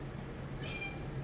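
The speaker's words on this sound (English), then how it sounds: "I don't know if you heard him, but he's meowing." A cat meows softly, a short drawn-out cry rising over a steady low background hum, fairly quiet and close.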